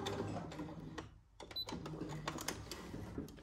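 A home sewing machine back stitching a seam, its rapid mechanical clatter running near and steady, briefly pausing midway before resuming with clicks.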